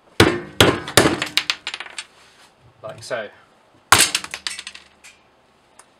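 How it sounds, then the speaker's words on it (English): Hammer blows striking a frozen, solid food processor sleeve to shatter it: sharp, loud cracking impacts in two bursts of several hits each, with a brief muffled gap of talk between them. "a few hammer blows and it should shatter"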